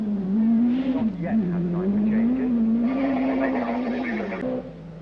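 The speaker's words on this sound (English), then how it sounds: "his uncharacteristic spin here will certainly cost him time." A Toyota Celica Twincam Turbo Group B rally car spinning on a stage, its engine droning and revving up while tires scrub, with a commentator talking over it.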